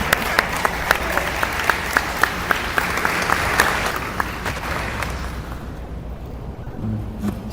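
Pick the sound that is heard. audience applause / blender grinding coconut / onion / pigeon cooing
audience applause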